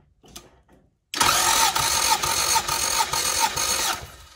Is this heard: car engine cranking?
yes